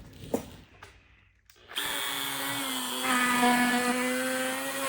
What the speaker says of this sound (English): and now we're gonna carve the groove.